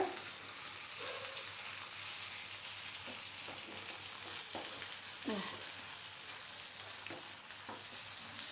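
Pumpkin slices fry uncovered in a pan with a steady broadband sizzle, broken by a few soft clicks and stirring scrapes and a small spatter near the middle; no one talks.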